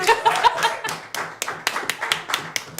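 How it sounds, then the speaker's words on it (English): Small audience clapping at a Delaware trivia night, a handful of distinct close hand claps in an uneven rhythm, some sharp individual slaps standing out. "Can we clap it up for that one?"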